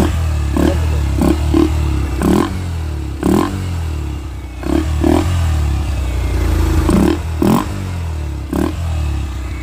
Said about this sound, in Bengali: আমি ইউনি ফিল্টার ইনস্টল করেছি আমার বাইকে, তো এর সাউন্ডটাও আমি তোমাদের শোনালাম